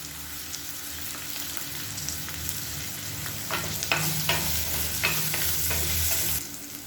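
Onion and green chillies sauté in a pan for a mango side dish, a steady, moderate sizzle with spatula scrapes and clinks growing busier toward the end.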